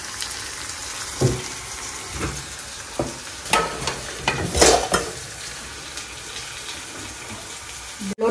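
Ingredients for paneer biryani frying in a pan, a steady low sizzle with several stirring scrapes and clatters spaced a second or so apart, fairly close and alone without talk.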